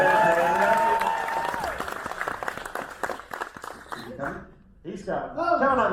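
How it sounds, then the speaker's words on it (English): Crowd applauding and cheering at a live horror makeup show at Universal Studios Orlando, loud dense clapping that swells and fades with voices over it, dropping briefly near the end before picking up again. "Listen to that crowd"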